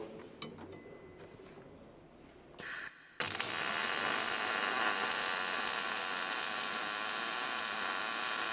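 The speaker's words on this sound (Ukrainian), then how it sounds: "Зараз попробуємо як апарат зварить." An XFUME Power 350/450A semi-automatic welder with built-in fume extraction starts with faint clicks and low hum. About three seconds in, a loud, steady, hissing welding arc takes over and continues to the end.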